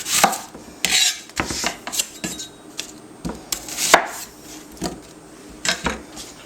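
Red onion chopped on a board for an Italian sausage and sweet bell pepper pie: irregular, close knife thuds and clacks arrive in uneven bursts with short pauses between them.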